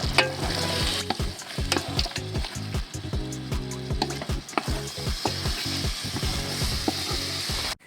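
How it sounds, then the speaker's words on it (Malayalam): Jackfruit biryani being stirred in a pot, with a steady series of close wooden scrapes and knocks over a faint simmering sizzle. "ഇനി നമുക്കൊന്ന് ഇളക്കി കൊടുക്കാം."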